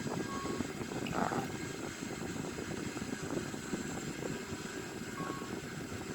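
Engines of an Airbus A340-313X in a flight simulator game, a steady broadband roaring drone held at a moderate level throughout with no voices.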